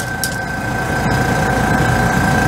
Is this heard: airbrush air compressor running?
yes